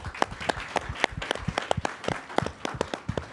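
Scattered, individual claps from a modest audience at a government forum on big-tech censorship, sharp and distinct rather than a full roar, continuing throughout.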